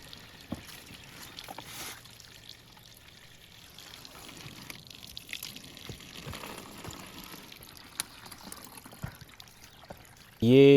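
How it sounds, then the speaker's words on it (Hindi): Clear water runs from a mountain spring near Sattu Bangla outside Abbottabad, a soft, continuous trickling with faint splashes, fairly quiet throughout, ending in a sudden loud burst of another sound. "वाह, चश्मे से साफ पानी।"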